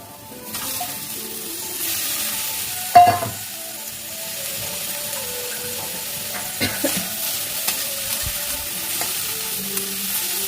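Onions hit a pan of beetroot and carrot and sizzle as they are stir-fried, with a spatula scraping and clattering at intervals over a steady frying hiss; no one speaks.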